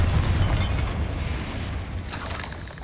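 Spell explosions from Confringo and Bombarda in the Hogwarts Legacy video game, heard as a dense, loud rumbling burst of blasts that fades slightly, with no talk.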